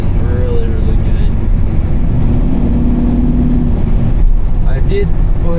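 An old diesel vehicle, abandoned for ten years and recently revived with a new filter, driving down a road; a loud, constant engine drone and road rumble fill the cab, with a person talking over it.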